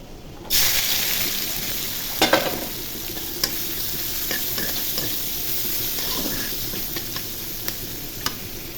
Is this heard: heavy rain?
no